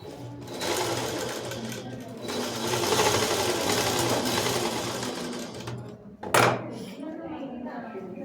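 A sewing machine stitching the folded pocket of a school dress, running in a fast continuous whirr for several seconds, then a sharp clack as it stops, with light handling afterward.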